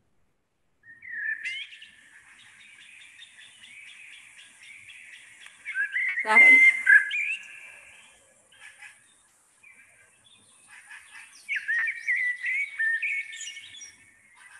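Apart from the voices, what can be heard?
Eurasian blackbird song, played recording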